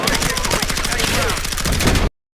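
Rapid automatic gunfire in Battlefield 6, a dense string of sharp, evenly spaced shots rattling loudly and without pause for about two seconds before cutting off abruptly.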